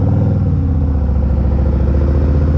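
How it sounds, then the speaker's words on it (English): Loud, deep engine rumble from a muscle-style machine heard up close during a ride, a continuous throbbing low drone with steady pulsing and slight rev variation, no talking over it. "That is the best part about this, is it's the loud muscle car sounds."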